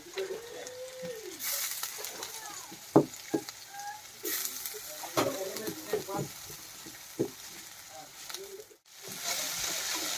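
Onions frying in a pan for pasta, a soft sizzle with scattered clinks and stirring knocks, fairly close, with brief background sounds and a faint voice at times.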